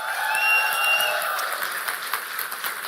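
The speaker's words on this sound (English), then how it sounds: "Let's have a big clap." An audience claps together at a live launch event for the Honor X9b smartphone, a steady wash of applause in a large room with a few faint voices mixed in.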